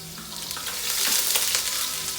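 Garlic hits hot oil in a pot while chow mein is being cooked, giving a steady, bright sizzle that swells slightly partway through and holds close and constant, with no talking.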